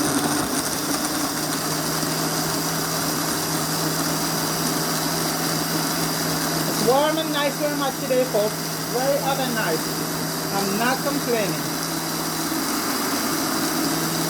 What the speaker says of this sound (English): I'm gonna blend this up now.